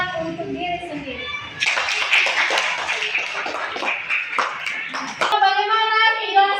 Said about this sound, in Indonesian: Berikan tepuk tangan untuk diri sendiri.